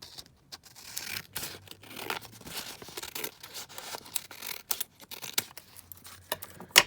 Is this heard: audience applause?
no